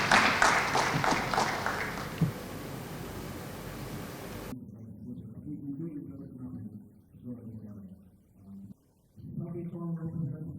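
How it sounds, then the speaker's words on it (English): An audience at a Servicom week event in the State House applauds. Dense, loud clapping lasts a few seconds, then cuts off and a voice speaks. "Please, round of applause for you."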